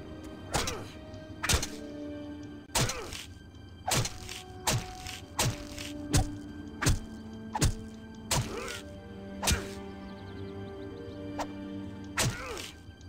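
A weapon strikes a practice dummy again and again in the Drakan video game, about a dozen sharp thunking whacks at a fairly even rhythm, loud and alone.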